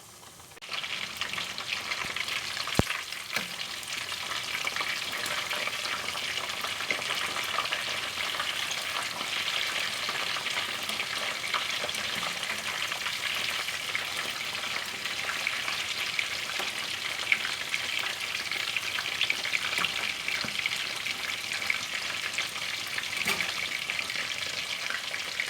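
Chicken pieces deep frying in hot oil, coated with cheaper ingredients for a crispy fried chicken, give a steady, dense crackling sizzle that holds evenly throughout, with faint stirring clinks now and then and no talking.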